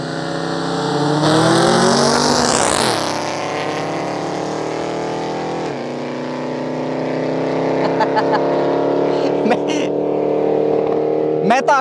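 Two drag racers, a Ford Fiesta against a Plymouth Satellite, accelerate hard from a 50 km/h rolling start, their engines roaring loud and close with rising pitch sweeps and gear changes over a continuous growl.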